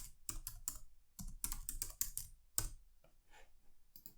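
Bursts of typing on a computer keyboard while entering network settings, clusters of quick key clicks separated by short pauses, close and clear with no talking.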